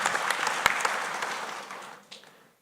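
Audience applause at a Nation DT SACCO annual general meeting, a dense burst of clapping that fades out over about two seconds, with a brief flare near the end.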